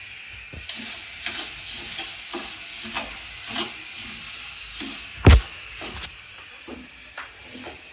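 Rice browning in a pan for Mexican rice gives a steady, soft sizzle and hiss, broken by repeated scraping stirs and one sharp, louder knock of the utensil near the end.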